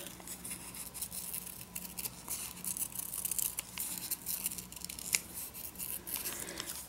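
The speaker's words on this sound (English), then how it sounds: "Then I will cut them apart, and I even go so far as to trim around the edge" Scissors snip through old book pages up close, in quick repeated crisp cuts with light paper rustling, faint and with no talking.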